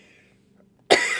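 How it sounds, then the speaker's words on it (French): A single sudden, loud cough bursts out near the mic after a quiet stretch of faint room tone, its rough breathy tail lingering briefly. "Excusez-moi, petite toux ce matin."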